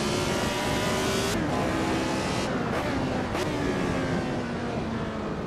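A 1970s Lotus 72 Formula One car driven in Assetto Corsa, its engine note droning loud and steady with a few sharp shifts breaking the whine, heard alone up close.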